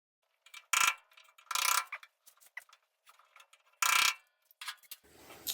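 A drill bores out spot welds on a door latch plate, sounding in loud, separate bursts of high-pitched grinding and screeching, with softer clicks and scrapes between them, close up and with no talking.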